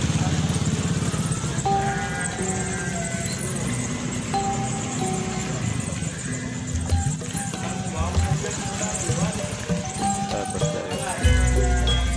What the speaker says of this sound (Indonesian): disusul dengan berbagai kendaraan bermotor